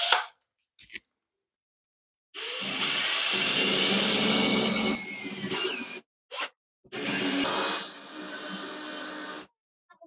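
Drill with a water-dunked core bit boring a hole through a shower wall during a remodel, a few grinding bursts of several seconds each separated by silent pauses, close and loud with no voices.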